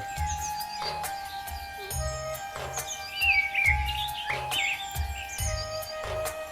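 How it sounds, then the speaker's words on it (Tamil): Birds in the Mysore Zoo aviary, parrots among them, keep up a steady chorus of shrill chirps and calls against a continuous background hum, with a rhythmic low thumping underneath. "நிறைய பறவைகள் அங்கே இருந்தது குறிப்பாக எங்களுக்கு கிளி மட்டும்தான் தெரியுது"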